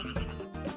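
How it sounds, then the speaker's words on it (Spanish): Two loud, close croaks of a jumping frog, each a low raspy burst, follow one another with a brief pause between. "¡Es el sonido de una rana saltarina!"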